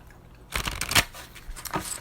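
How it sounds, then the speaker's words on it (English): A deck of cards being shuffled up close, a loose riffle of bursts and flutters starting after half a second of quiet, with a sharp peak near one second and smaller shuffling taps continuing to the end. "I'm going to give our cards a good shuffle."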